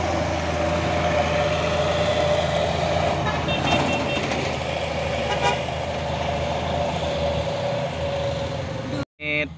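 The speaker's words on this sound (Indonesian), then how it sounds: "Ini truk engkel dan sepertinya ini Lohan TI." A single-axle truck, a Lohan TI, drives along the road, its engine a steady loud drone, with a brief horn-like tone partway through. The sound cuts out abruptly near the end.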